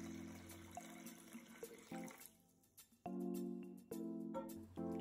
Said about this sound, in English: Pour over enough water to cover the almonds.